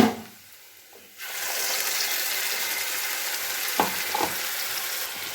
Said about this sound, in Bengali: দিয়ে এবার বেশ কিছুক্ষণ আমি ভালোভাবে মশলাগুলোকে কষিয়ে নেব।